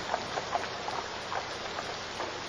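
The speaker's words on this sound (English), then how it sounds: "Rain pounded with the thunderstorms that had roamed the skies since Charlie's arrival." Steady rain pounds down during a thunderstorm, a dense continuous wash of drops with faint scattered patters, heard alone without voices.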